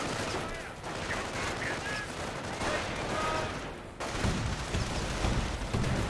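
Infantry gunfire in Company of Heroes 1: scattered rifle and machine-gun bursts crackling at mid distance over a dense battlefield din, with a sharper burst of shots near the end.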